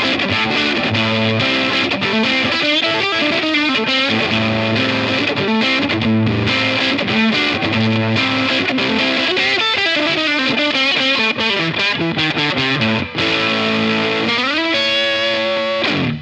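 Electric guitar with a neck P90 pickup played through a Cooltone Range Booster treble booster fuzz pedal, giving a loud, continuous fuzzy riff with chords and single notes ringing for the whole stretch, with no voices.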